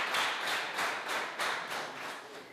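A small group claps for a schoolchild in Rwanda, about eight distinct bursts of hand claps in a loose steady rhythm, fairly close and moderately loud, with no talking.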